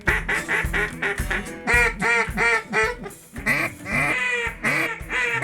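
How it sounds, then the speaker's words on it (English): A duck call quacks loudly and steadily in rapid, rhythmic runs of raspy notes in flooded timber in Arkansas, close by, with no one talking. "That's the way you call them through the trees, Jesse."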